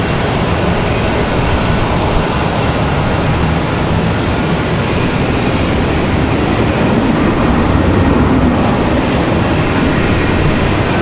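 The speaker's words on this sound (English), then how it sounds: "Another American A321 touching down" An American Airlines A321 touching down at Raleigh-Durham International, a loud, continuous broadband jet roar that stays steady throughout with no talk.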